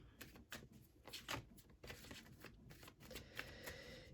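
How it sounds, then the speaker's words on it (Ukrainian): A deck of tarot cards shuffled close up in several quick riffling bursts, soft and crisp against a quiet background. "Зараз я перемішаю колоду."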